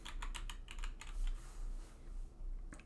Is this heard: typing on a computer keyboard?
yes